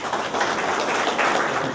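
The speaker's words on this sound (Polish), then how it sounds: "Ogromne brawa dla pana," An audience applauds Mr. Gerard at the official opening of the Silesian Culture Centre, a dense, steady burst of clapping from many hands that holds for under two seconds.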